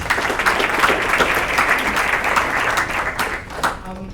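An audience gives a teacher, Mr. Stone, a sustained round of applause at a community YMCA education celebration, with dense clapping and light crowd noise that tapers off near the end.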